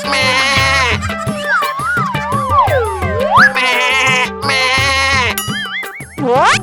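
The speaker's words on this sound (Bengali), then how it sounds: "ওই তো আমার ছাগলটা ডাকছে" A cartoon goat bleats in loud, wavering cries that rise and fall, repeated several times against a busy animated soundtrack with bouncy sound effects.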